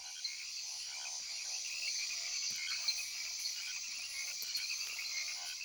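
Male frogs call in a jungle, a dense, steady chorus of high chirping and trilling that fills the whole scene, with faint insect buzz mixed in and no voices.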